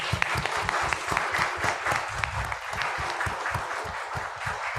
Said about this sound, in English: could we have a round of applause for all presenters